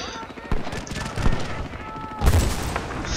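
Rapid bursts of gunfire in Battlefield: Bad Company 2 crackle over busy background noise, with a louder burst of shots near the end.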